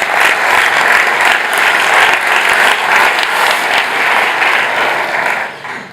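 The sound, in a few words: audience applause at a real estate conference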